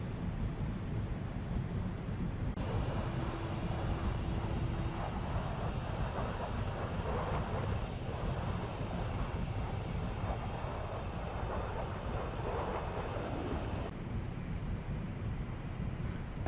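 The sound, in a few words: Arado Ar-234 jet gliding to land, IL-2 video game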